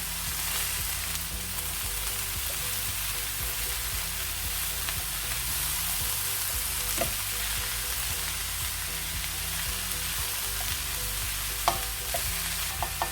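Blanched vegetables are stirred into a pan for a chicken pie filling, giving a steady, close sizzle with a few faint spoon clicks and no talking.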